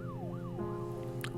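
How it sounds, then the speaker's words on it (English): Emergency vehicle siren wailing in rising and falling sweeps over a steady engine drone, fairly faint and distant, with a brief brighter burst near the end. "sirens are coming for you, crazy people."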